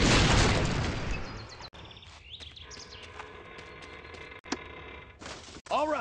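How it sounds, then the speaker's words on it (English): A detonator blast in the Tonka Garage video game opens with a loud close boom that decays over a couple of seconds, followed by quieter scattered pops and chirpy game effects. "Click on the detonator and plug your ears."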